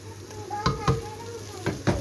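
Tomato paste for a cubed-meat casserole roasting in a pan, a soft steady sizzle broken by a few quick stirring scrapes, close up, with no talking.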